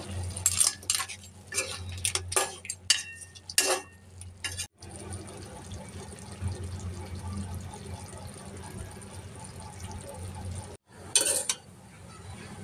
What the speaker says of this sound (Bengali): এখন আমি কাঁকড়ার দাঁড়গুলো এর সাথে মিশিয়ে দিব, কিছুক্ষণ রান্না করে তারপরে নামিয়ে দেব